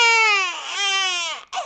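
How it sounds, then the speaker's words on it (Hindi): A newborn baby's loud crying right after birth, one long wailing cry that dips and rises again, then a short catch of breath and the start of another cry, close and alone. "तभी अंदर से बच्चे के रोने की आवाज आती है।"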